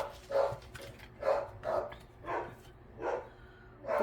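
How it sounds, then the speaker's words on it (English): Several dogs barking indoors after dinner, about six separate barks spaced roughly half a second to a second apart, moderately loud, with no talk over them. "Sorry if it's kind of loud in the background. The dogs just finished dinner."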